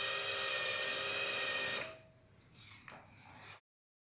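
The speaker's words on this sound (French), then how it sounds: "vous venez percer le premier trou sur une profondeur de 10 mm en étant bien à 90 degrés avec votre perceuse" A handheld power drill boring a 10 mm deep hole at right angles, a steady high whine for about two seconds that winds down into faint rattling and clicks, with no talking.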